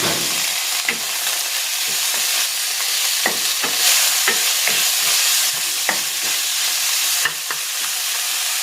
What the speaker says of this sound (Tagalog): Igisa ko na dito itong boiled chicken breast.